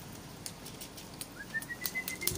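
Gola pigeons in a Karachi loft: faint bird sounds with a few soft wingbeat flutters, then a thin rising whistle-like call near the end, all fairly quiet and distant, with no talk.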